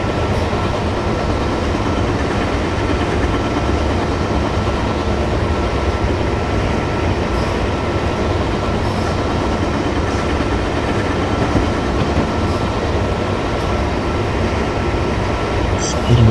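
A train in a zombie-apocalypse train-driving game rolls along the rails on the old Pennsylvania Railroad line toward Newark Penn, a loud, steady rumble with faint clicking that holds evenly throughout with no voices.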